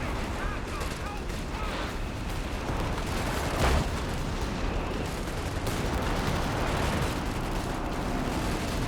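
Anti-tank gun firing in a Company of Heroes 3 4v4 match on the Sousse map, one sharp blast near 3.7 seconds standing out from dense, continuous battle noise of scattered gunfire and explosions, with voices talking over it.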